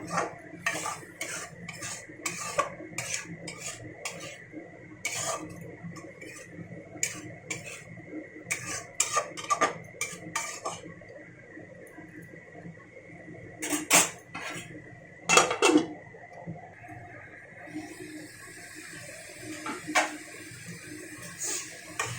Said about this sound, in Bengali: সামান্য জল দিয়ে দিলাম, দিয়ে এবারে সুন্দর করে নাড়াচাড়া করে নেব।